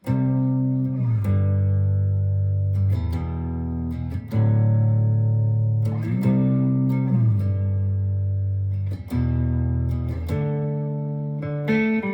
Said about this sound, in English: I'm gonna stay on the neck pickup of the 335